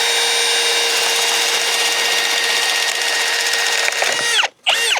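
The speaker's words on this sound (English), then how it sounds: "Yeah, it'll make it through speed 1 drill mode" A cordless drill in speed 1 drill mode runs at a steady, whining low speed for several seconds, then briefly cuts out and spins back up.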